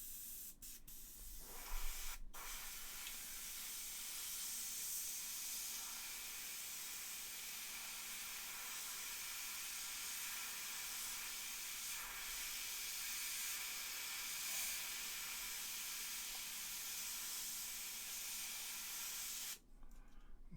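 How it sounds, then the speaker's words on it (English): Steady, near hiss of spray paint being laid down on a McFarlane Toys Hellblaster Primaris marine action figure, running almost continuously for about twenty seconds with only brief breaks near the start and end. "Spray it this way."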